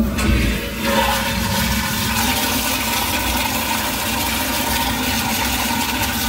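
A wall-hung toilet's flushometer fires with a sudden loud rush, then settles into a steady, close, hissing spray and flow of water that runs to the end.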